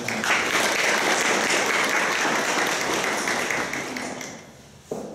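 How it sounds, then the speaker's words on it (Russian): Concert audience in a large hall applauding at a choir studio's anniversary concert, dense sustained clapping that tapers off near the end before a brief final clap. "Поэтому еще раз аплодисменты."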